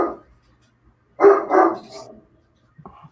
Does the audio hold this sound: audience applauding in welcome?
no